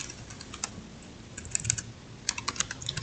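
Fast, light key clicks on a computer keyboard as a ping command is typed into a terminal, irregular bursts of close taps over a soft hiss, alone with no voices.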